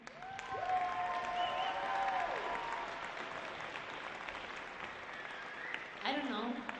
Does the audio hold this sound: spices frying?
no